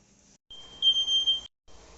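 Kitchen smoke alarm set off during chicken biryani cooking, sounding a few shrill, piercing electronic beeps in close succession, broken by short silences between bursts.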